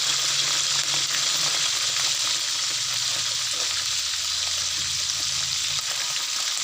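Oil heating in a pan to fry mackerel gives a steady, fairly loud sizzling hiss up close, continuous and even throughout, with no talk.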